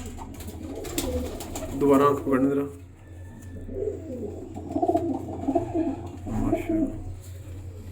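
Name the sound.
pigeons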